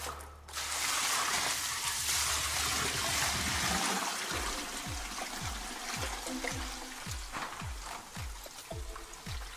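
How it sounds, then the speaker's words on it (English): Fifty liters of water dumped all at once into a container for a homemade sulfur germicide mix, a loud continuous rushing pour that settles into gurgling with a rhythmic low sloshing pulse, close and with no talk. "Now I will add 50 liters of water that previously prepared in advance next to me."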